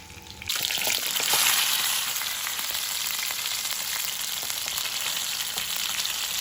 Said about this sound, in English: So that's why I will pan fry until it cooked